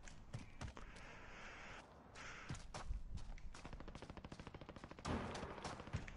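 Call of Duty gunfire: scattered single shots followed by a quick, even burst of automatic fire, fairly faint and distant-sounding, with thuds and footsteps in between.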